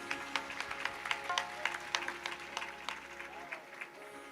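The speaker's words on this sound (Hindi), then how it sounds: "एक बार फिर से अच्छे से ताली बजा दीजिए।" A small audience at a live Shiv Mahapuran katha gathering claps in a soft, uneven patter that swells and then thins out, faint and steady under a low hum.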